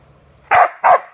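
Two sharp, loud dog barks close by, the second following the first a moment later, with near silence before them.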